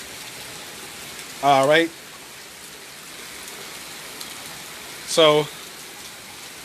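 Rain falls on a stormy day in New Orleans, a constant soft hiss in the background, broken by two short bursts of someone talking.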